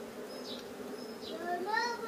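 Honey bees hum during a hive inspection, a steady close buzz with a few higher whines as single bees fly past, growing slightly louder toward the end.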